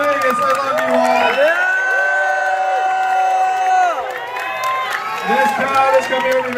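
Las Vegas rally crowd for Andrew Yang, cheering and shouting loudly with many overlapping voices chanting in a sustained, rising and falling roar, close and energetic.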